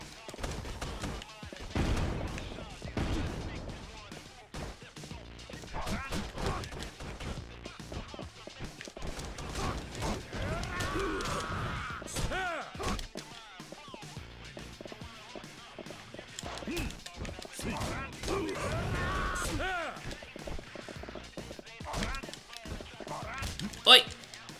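A grenade fight in Yakuza 3 Remastered: repeated explosive bangs and gunfire-like bursts crackle at varied loudness, with one sharp blast near the end, over busy game noise.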